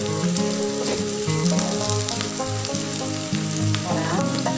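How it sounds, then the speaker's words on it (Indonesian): Tempe frying and being stirred in a pan for sweet-spicy Indonesian orek tempe, a continuous close sizzle with scraping stir strokes. Tonal music plays underneath throughout. "Kita aduk-aduk."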